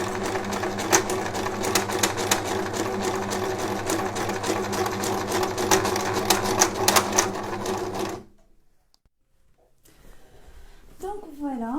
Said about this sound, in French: Une fois on a passé le surjet et l'élastique en même temps